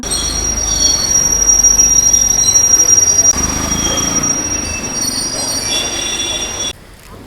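Steel train wheels squeal loudly as an express train arrives at Jolarpettai station in India, a sustained high screech over rumbling rail noise that cuts off abruptly near the end.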